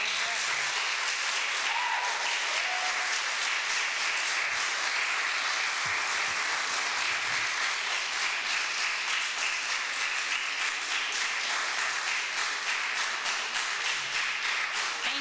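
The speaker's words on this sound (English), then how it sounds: "we get a full round of applause from the room" Sustained applause from a room full of people at a public meeting, an even, continuous wash of many hands clapping at a steady level for the whole stretch, with no voices standing out.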